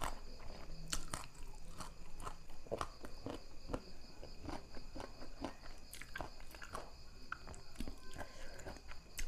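Crunchy pickled green mango dipped in chili salt is bitten and chewed close up, sharp crisp crunches repeating irregularly over a steady background of insect chirping, with no talking.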